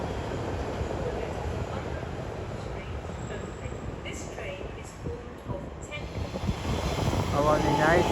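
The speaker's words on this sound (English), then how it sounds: "Arriving now is 1721, Elizabeth Line service from Shenfield to Paddington" An Elizabeth Line train arriving at Stratford station on the Great Eastern Main Line, a steady broadband rumble of wheels and motors that builds toward the end, with a station announcement voice over it.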